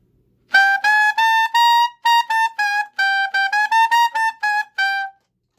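A saxophone played in the altissimo register, a quick run of about fourteen short, bright, high notes in a stepwise sequence, tongued separately, close and clean with no talking.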